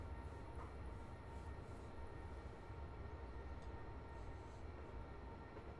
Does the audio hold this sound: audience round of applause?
no